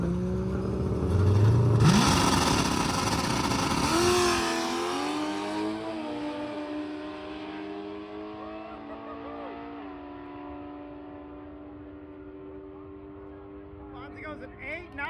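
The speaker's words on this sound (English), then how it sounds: "This is gonna be a good race. We got Fonzie over there, and we got the Nova." Drag racing cars, one of them a Nova, launching down the strip at a drag-and-drive event. Engines roar loudly at the start, then their rising whine recedes into the distance while voices talk and cheer nearby.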